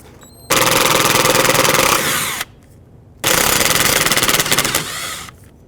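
An impact wrench drives out 10mm bolts on the rear hub of a 2002-06 Toyota Camry, two loud rapid hammering bursts of about two seconds each with a short quiet gap between, close up.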